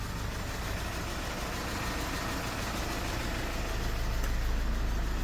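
A 2016 Hyundai Porter 2 Super Cab truck's Euro 5 diesel engine idles steadily with a low, continuous rumble, close by and unchanging.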